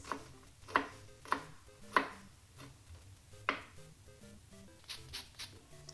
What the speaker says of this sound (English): now we're gonna chop the garlic into smaller tidbits, just like this.